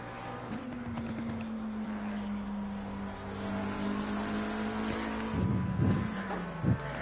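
A Porsche race car at Silverstone during an eight-hour endurance race, its engine a steady drone that holds one pitch and then dips as it passes, with a couple of brief louder bursts near the end.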